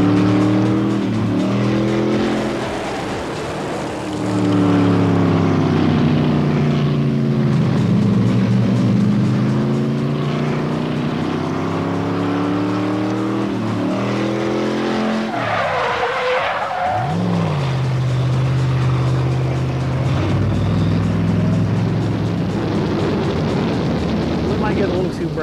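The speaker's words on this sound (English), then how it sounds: "Whatever point the car's at on the spin, it'll stay there and the whole car will just wash out." A Chevrolet Corvette convertible spins during a Joey Chitwood Chevy Thunder thrill show stunt, its engine revving in rising and falling sweeps with loud tire skidding and squeal, while someone talks over it.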